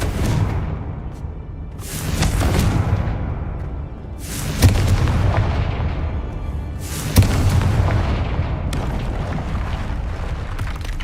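Confringo fire spell blasts from Hogwarts Legacy, heard as four heavy booming explosions spaced a few seconds apart, each a loud sharp burst trailing into a rumbling roar over continuous game ambience.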